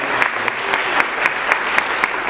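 A round of audience applause at a popcorn sales motivational talk, brisk many-handed clapping with sharp regular peaks, loud and close, steady throughout with no speech over it.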